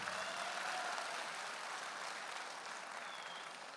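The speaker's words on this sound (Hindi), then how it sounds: "दादा तालियां बजा लो।" A crowd of Bengali attendees at an event applauds, a continuous hiss of many clapping hands at low volume that gradually fades slightly toward the end.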